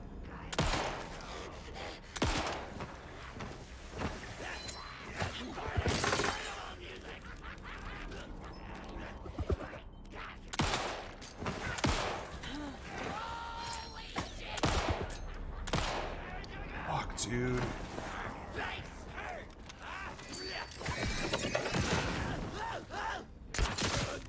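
Gunfire in the video game Alan Wake 2, a rapid run of sharp shots and bursts that recurs throughout, with a voice talking over parts of it.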